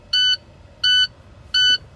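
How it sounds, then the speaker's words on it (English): Truck air brake low-pressure warning buzzer sounding during an air brake inspection, three loud, clean electronic beeps evenly spaced about every 0.7 seconds, with quiet cab background and no speech. "So right about there, you're going to get that buzzer and see a light."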